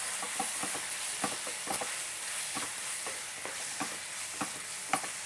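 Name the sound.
stirring ground coconut, chili, shallot, garlic paste into squid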